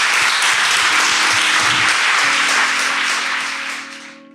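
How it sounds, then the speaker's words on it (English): An audience at an outdoor summit gives a loud, dense round of applause that holds steady for several seconds and then fades away toward the end. "I think that gets a round of applause here."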